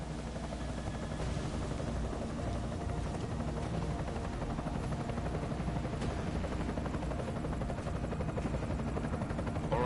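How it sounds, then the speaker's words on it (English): An enemy helicopter in Deus Ex drones steadily throughout, a continuous rotor thrum at moderate distance with no speech over it. "Enemy helo sighted."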